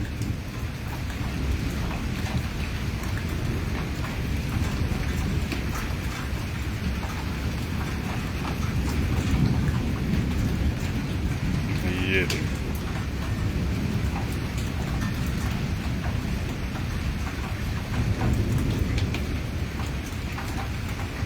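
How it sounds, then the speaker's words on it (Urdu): Heavy rain pouring steadily during a thunderstorm in Islamabad, Pakistan, a loud unbroken wash with rumbling thunder swelling low underneath, and a voice speaking briefly over it. "لائٹننگ گرج چمک. اور یہ دیکھیں آسمان سے کیسی بارش اتر رہی ہے."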